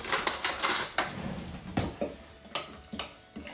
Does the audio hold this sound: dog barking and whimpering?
no